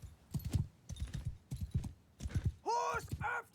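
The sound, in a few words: horses galloping in video game Mount & Blade II: Bannerlord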